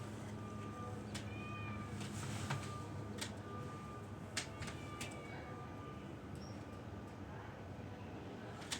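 A black cat meows a few times at moderate distance, brief tonal calls standing out over steady background noise and faint chirps.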